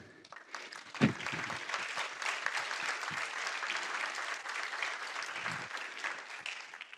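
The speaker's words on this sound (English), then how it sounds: "That deserved an applause." A crowd claps steadily, a dense wash of applause that holds at an even level throughout.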